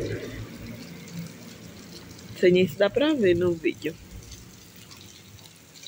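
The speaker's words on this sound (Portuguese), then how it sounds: "Hoje tá chovendo." Rain falls steadily as a soft, constant hiss behind everything, while someone speaks briefly over it in the middle.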